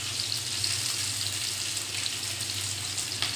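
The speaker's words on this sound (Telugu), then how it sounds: "ఫ్రైడ్ ఆనియన్స్ చేస్తున్నాం మనం ఇప్పుడు." Sliced onions frying in hot oil in a pot for Hyderabadi dum biryani, a steady, dense sizzle that holds evenly throughout at close range with no talk.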